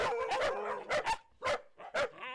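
Dogs at an animal shelter let out a series of short, loud barks and yips, close by, in irregular bursts separated by brief quiet gaps.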